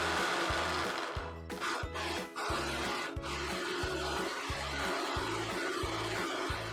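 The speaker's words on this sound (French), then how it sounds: "on va simplement bien mixer jusqu'à obtenir un coulis bien homogène" A blender purées a homemade strawberry and basil coulis, its motor running in a steady, pulsing whir with a rhythmic low throb and brief dips as the mixture churns.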